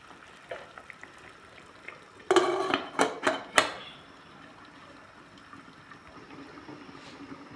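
A lid is set back onto a pot of tilapia fish soup with moringa leaves, giving a brief burst of close metallic clinks and rattles that settles into quiet simmering.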